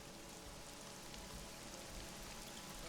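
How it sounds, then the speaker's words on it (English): Rain falling and gathering strength, a soft, steady patter spread evenly across the whole stretch, faint and distant, with no voices. "the rain is starting to really pick up."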